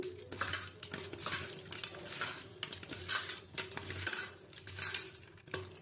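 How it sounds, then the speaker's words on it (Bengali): Tengra fish being rubbed by hand with salt and turmeric makes close, rhythmic wet squishing and light clinking knocks that repeat in bursts for several seconds, with no voices. "আমি নুন হলুদ দিয়ে মাছটা মেখে নেব।"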